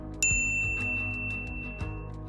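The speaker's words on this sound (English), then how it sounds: "ring the bell to be notified about our latest videos" A bright notification bell ding rings out alone, followed by a softer second strike and a third near the end, with the metallic tone sustaining and fading between hits.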